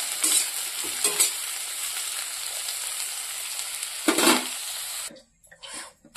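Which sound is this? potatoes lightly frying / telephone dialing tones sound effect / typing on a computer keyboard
potatoes lightly frying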